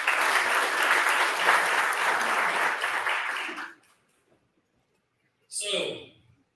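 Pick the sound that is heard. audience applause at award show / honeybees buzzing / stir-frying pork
audience applause at award show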